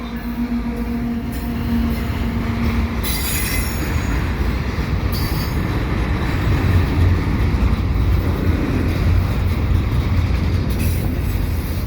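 A CP westbound freight train passes close by with a continuous heavy rumble of rolling cars, metallic wheel squeals and occasional clanks throughout, and no voices.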